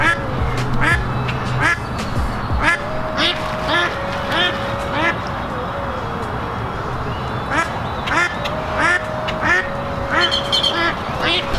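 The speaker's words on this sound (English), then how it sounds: "This dog is chasing these ducks around." A flock of ducks quacks busily and loudly, close by and overlapping, as a dog chases them around outdoors in a busy public spot, with people talking over the din.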